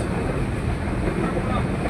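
Inside a moving passenger train crowded with hawkers, a steady low rumble and rattle of the carriage fills the space continuously at close range.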